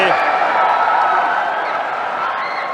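A fighter's family cheers from the stands at a Muay Thai bout, a steady wash of crowd noise and shouting heard beneath a commentator's continuous talk.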